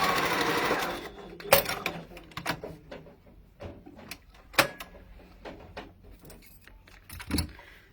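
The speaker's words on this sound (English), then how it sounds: "now I'm going to base sew the sides together" Sewing machine stitching the sides of a phone pouch within the seam allowance, running in short close bursts and stops with light clicks and handling noise between stitches.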